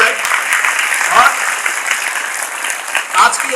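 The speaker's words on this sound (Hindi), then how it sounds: "मैं चाहूंगा कि जोरदार ताली बजाए" A school audience at Matrubhumi School claps loudly during a motivational good touch, bad touch programme, giving a dense, steady wash of applause that holds for several seconds.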